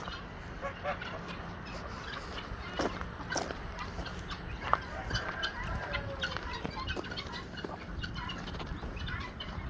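Indian game chickens and roosters cluck and give scattered honk-like calls at a modest distance, irregular bursts over a low background murmur.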